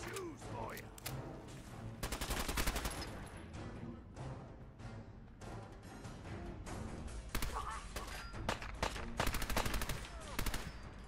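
Repeated bursts of gunfire from a hard-recoiling weapon in Fallout 4, loud rapid volleys clustered in several runs with thuds and mechanical clatter between them.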